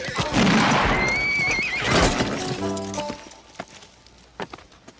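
A startled horse neighs in a loud, shrill whinny near the start, followed by snorting and hooves clattering, with a few sharp knocks trailing off afterward.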